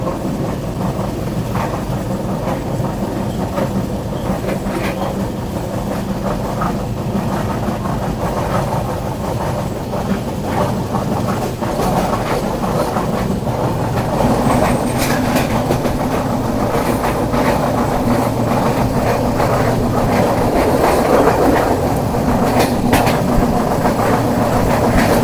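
Mandovi Express passenger train running on the Konkan Railway, a steady close rumble of wheels and carriage with rhythmic clickety-clack over rail joints, continuous and loud throughout with no voices.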